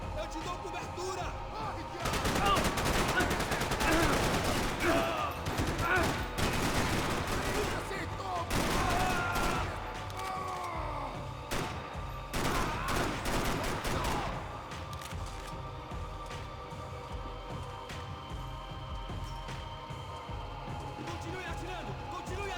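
Gunfire from the Max Payne video game crackles in heavy bursts and rapid volleys, dense in the first half then thinning to scattered shots, with shouted voices over the shooting.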